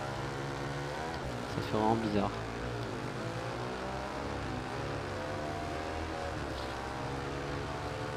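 Café racer motorcycle engine in the racing game RIDE 2, a retro 1970s–80s style bike, droning steadily with a sustained buzzing hum and a brief rev, under someone speaking French.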